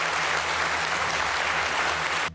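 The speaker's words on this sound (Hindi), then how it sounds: "वो जब तक अपने दफ्तर से बाहर नहीं निकले तब तक तालियां बजती रहीं।" Continuous crowd applause for Shinzo Abe as he leaves his office, a thick uniform wash of clapping that stays loud throughout and cuts off abruptly at the end.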